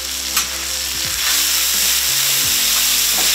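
Mixed vegetables, corn and sliced baby bella mushrooms with oyster sauce sear in a hot pan, a steady loud sizzle and crackle with low clattering pulses as the food is stirred and shifted.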